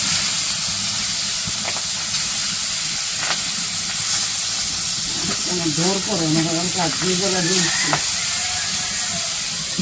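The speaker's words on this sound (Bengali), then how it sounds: "তো মাছ ভাজা হয়ে গেছে, নামাইতেছে" Fish pieces frying in hot oil for a village-style fish curry, seasoned with turmeric, chili and salt, give off a steady, close hissing sizzle throughout, with a brief stretch of voice rising over the crackle partway through.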